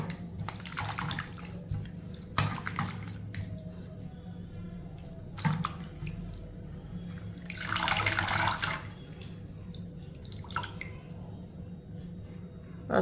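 Moringa leaves are rinsed under a running kitchen tap, heard as intermittent bursts of splashing water, including one longer gush, with quieter dripping and handling noises between them.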